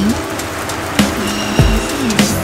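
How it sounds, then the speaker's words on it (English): Steady patter of rain on a surface in Tasmania, Australia, with a few sharper drips and knocks, fairly close, no voices. "It's raining."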